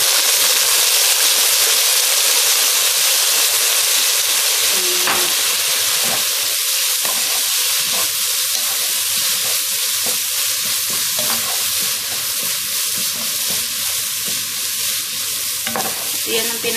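Rice fries loudly in a pan as soy sauce is added, giving a strong continuous sizzle and hiss with occasional scraping stirs, close and alone.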